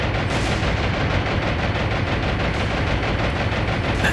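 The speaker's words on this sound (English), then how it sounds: "they've increased their anti-aircraft fire" Anti-aircraft guns fire continuously in the naval combat game War on the Sea. The rapid, dense booming runs without a break over a low rumbling backdrop, loud and steady throughout.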